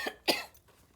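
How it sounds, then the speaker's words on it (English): Two quick, close coughs from a woman reading aloud, the second stronger, followed by quiet. "You guys know when I make those sounds, it makes me cough."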